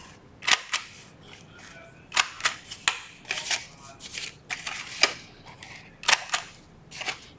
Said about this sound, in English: I used 1/4 of an inch side of my corner rounder.